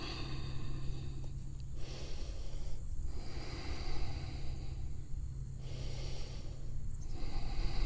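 Steady breathing during a yoga stretch after a run, a continuous airy wash with soft rises and falls of inhales and exhales, close and moderately loud, with no talking.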